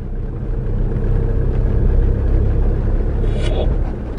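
Steady low rumble of a car engine while driving, a constant interior drone without speech.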